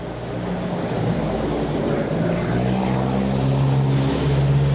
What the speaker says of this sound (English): That was the garbage truck.